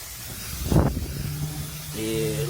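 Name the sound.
spraying brake cleaner on brake drum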